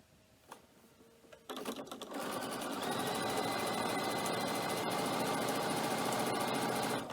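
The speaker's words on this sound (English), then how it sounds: "I'm going to stitch down the opposite side" A sewing machine stitches down the side of a cork messenger bag with stitch length set near 3, starting after a few faint clicks and then running as a steady, close, continuous whirr to the end.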